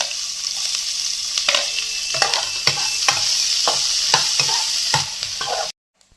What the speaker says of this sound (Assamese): এতিয়া মই কাটি থোৱা পেষ্টখিনি মই ইয়াত দিলোঁ